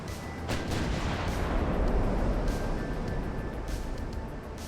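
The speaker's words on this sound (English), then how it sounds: "Full salvo." Naval guns firing a full salvo in the Ultimate Admiral: Dreadnoughts warship game, heard as a dense, continuous roar of heavy gunfire with repeated booming bursts layered over one another at steady loudness.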